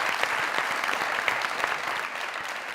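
Studio audience applause on a comedy talk show, a steady wash of many hands clapping close by for a few seconds, easing slightly near the end.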